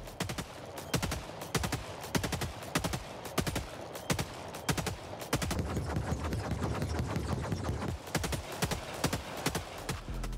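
The LAS-16 Sickle laser assault rifle fires in Helldivers 2: rapid sharp shots come in quick bursts, with brief pauses between the volleys and denser firing in the middle stretch.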